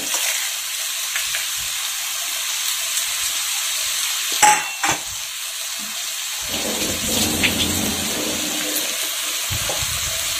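Radish curry sizzles and hisses in a hot pan as lentil dumplings are pressed in and stirred, a steady close frying crackle with a few sharp clanks of the utensil against the pan.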